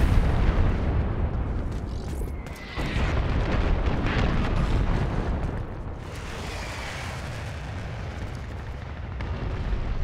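Artillery fire support explosions in the shooter game Dirty Bomb, a loud rumbling barrage of blasts with a brief dip near the third second, then a steady dense roar and crackle to the end.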